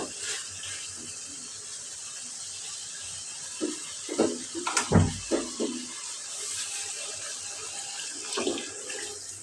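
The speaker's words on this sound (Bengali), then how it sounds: "কষানো শেষ এখন আমি পানিটা দিয়ে দিব" Water poured from a container into a cooking pot of sautéed curry on the stove, a short burst of splashing and gurgling in the middle, fairly close, against a quiet kitchen hiss.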